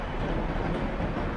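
A train rumbles past nearby at Soekarno-Hatta Airport, a dense continuous roar of rolling wheels and engine noise with no pauses.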